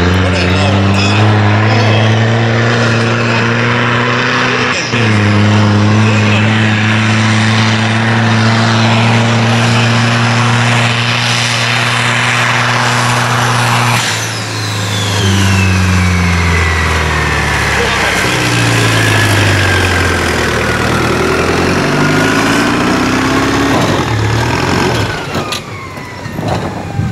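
Valmet 372 tractor under 80 hp roaring loudly through a tractor pull run, the engine note climbing, dropping and climbing again as it labors, with crowd noise in the background.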